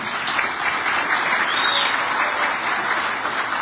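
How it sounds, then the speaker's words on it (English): Parents at a school commitment ceremony at Pathway Academy applauding their children after a pledge, a loud, full round of clapping from many hands, dense and steady throughout with no speech over it. "Parents, can we give our children a round of applause?"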